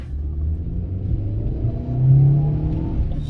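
A small Swift car engine rumbles low and steady, then swells as it accelerates, heard close from inside with no voices.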